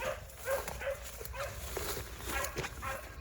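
Eight-month-old Bramlett/Reffett hound pup barking out in the field, a series of short yips and barks spaced about half a second apart, fairly distant and a little faint over wind and outdoor noise.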